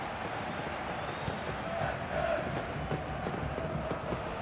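Loud, steady roar of a stadium crowd at a Freiburg versus Sevilla football match, a dense continuous wash of voices with swells of shouting throughout.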